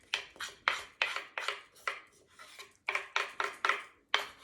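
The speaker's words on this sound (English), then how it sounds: "Let me grab a spoon. So I am mixing in" Spoon scraping and clinking against a bowl while mixing fresh thyme, okra, scallion and carrots for yellowtail snapper, a steady series of about a dozen close, bright strokes in an uneven rhythm, with no talking.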